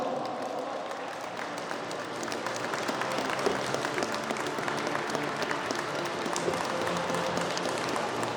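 A crowd applauds a youth football team from Zakopane at the closing award ceremony of a children's tournament, with steady, dense clapping that swells slightly midway and continues throughout.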